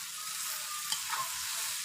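Boiled chowmein noodles stir-fried in a pan for chicken chowmein, a soft continuous hiss of frying with a couple of faint stirring touches, close and quiet.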